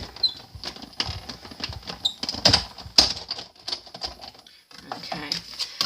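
An embossing folder with both plates feeds through a hand-cranked die-cutting machine, producing a close run of uneven clicks, creaks and squeaky ratcheting bursts with a brief pause near the end.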